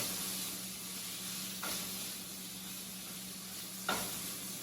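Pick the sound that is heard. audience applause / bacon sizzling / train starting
bacon sizzling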